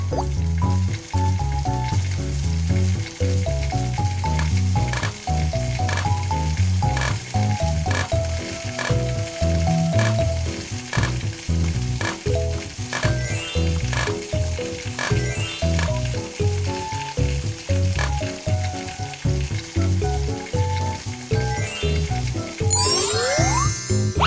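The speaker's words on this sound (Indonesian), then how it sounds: "Waktunya menggoreng cakwe." Cakwe, fried dough sticks, sizzle steadily in hot oil in a cartoon breakfast restaurant, a continuous loud frying hiss with light tinkling musical notes playing over it.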